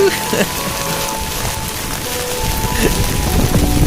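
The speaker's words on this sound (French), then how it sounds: "Il pleut quand même un peu trop" Heavy rain falls steadily beside the Loire lateral canal near Digoin, a dense continuous hiss and patter that swells louder toward the end, with no talk heard.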